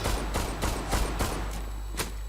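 Gunshots in a Turkish-made shooter video game, with about six sharp, loud reports spaced unevenly over a couple of seconds. A low steady rumble lies underneath.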